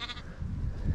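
Sheep bleating in a village, a brief nasal call at the start over low rumbling outdoor background noise, close and moderately loud.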